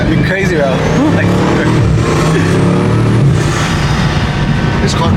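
Bugatti sports car accelerating hard, a loud close engine roar with rising revs, while people talk over it.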